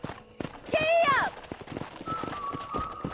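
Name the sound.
horse hooves clip-clopping in the video game Red Dead Redemption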